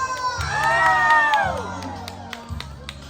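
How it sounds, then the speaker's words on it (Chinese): An audience screams and cheers at a live singing performance, a loud crowd roar that swells and then fades over a few seconds, with a few shouts and claps breaking through at the end. "尖叫声！"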